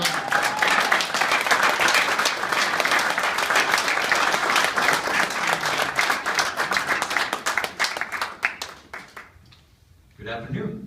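A crowd at a political party gathering applauds a Secretary of State candidate, with dense clapping that is loud and sustained for about nine seconds before fading out, followed by a voice speaking.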